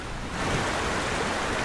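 Floodwater from heavy rain rushes in a Hindi cartoon, heard as a continuous broadband roar like surf or rushing water, steady and moderately loud with no voices.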